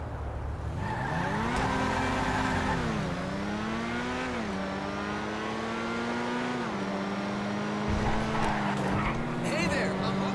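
A car in Grand Theft Auto takes a hot lap, its engine note rising and falling steadily through gear changes and corners at close range, with people talking over it throughout.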